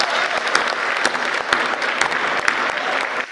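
An audience at a Hindi poetry event bursts into applause, with dense clapping from a crowd that keeps a steady level before breaking off near the end.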